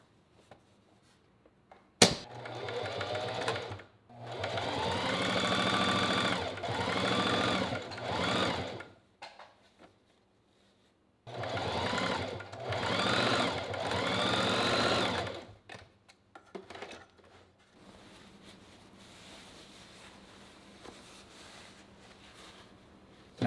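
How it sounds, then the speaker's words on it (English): Sewing machine stitching a flare panel into a jeans seam, running in two long steady bursts of rapid stitching separated by a short pause, then quieting to faint handling noise. "Now that we have one side of the flare pinned together to the pants, we're gonna start sewing."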